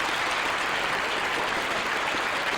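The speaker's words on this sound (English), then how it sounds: "The James Webb Space Telescope, amidst applause here in the Mission Control Center" Sustained, dense applause from a crowd in a spaceflight Mission Control Center at the James Webb Space Telescope's separation, loud and unbroken throughout.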